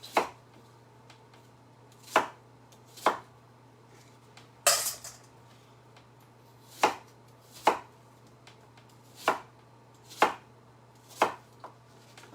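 A knife chopping apples for apple pie on a board, about a dozen crisp, evenly spaced chops over a low steady hum, close and distinct with no talk.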